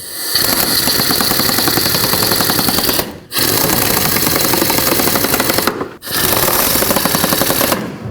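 Loud, close rapid mechanical rattling from a 10mm socket tightening crankshaft pulley bolts on a 2003-2021 Chevy Express 3500, running in three long bursts separated by short pauses.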